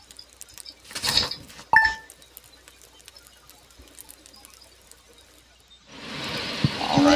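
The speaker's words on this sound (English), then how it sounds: "you can see it's raining" Rain falls in the video game Stardew Valley as a steady, soft hiss that swells in the final seconds, after a couple of brief game sound effects early on.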